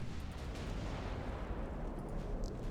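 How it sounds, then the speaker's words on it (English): Warship guns firing high-explosive shells in the naval battle game Ultimate Admiral: Dreadnoughts, a steady low rumbling barrage of dull booms with no distinct single shots, moderately quiet throughout. "I'm just dumping high explosive into the side of this ship, hoping to open up more flooding."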